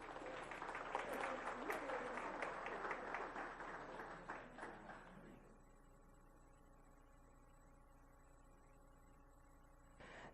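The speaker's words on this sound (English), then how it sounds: "Let's give him another round of applause." An audience at a school board meeting claps and cheers loudly for about five seconds, then the applause fades out into quiet room tone.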